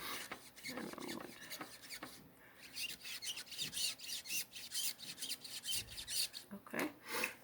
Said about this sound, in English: I'm going to vigorously rub 2 to 3 inches on each side for at least 30 seconds